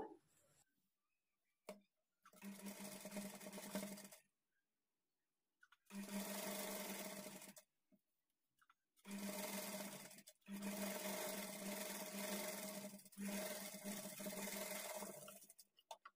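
A sewing machine runs in several sustained bursts of stitching along a blouse fabric strip, each lasting a few seconds with short quiet pauses between, loud and close with no talking.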